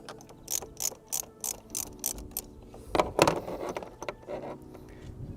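A 7mm socket ratchets in quick bursts of clicking while undoing the clamp on a rubber intake pipe of a 2021 Ford Transit Custom Sport during a K&N filter fit, close and fairly loud with short pauses between bursts.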